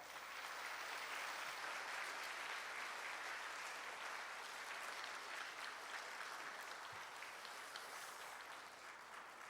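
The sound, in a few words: applause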